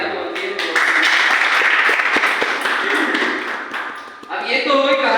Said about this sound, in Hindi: तो तालियां तो बनती है।